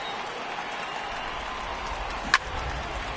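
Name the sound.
crowd cheering in a PS4 baseball video game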